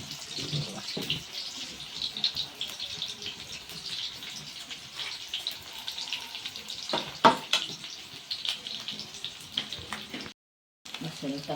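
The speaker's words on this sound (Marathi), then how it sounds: "नंतर कांदा लसूण फोडणी, ही फोडणी देता, कांद्या लसूणची फोडणी." Onion and garlic frying as a tempering in a pan, a steady close sizzle and crackle running throughout with occasional stirring clatter and a brief dropout near the end.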